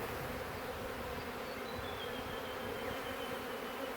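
Honeybees buzz steadily in a dense, continuous drone from a crowded hive that is being split, with no voices over the sound.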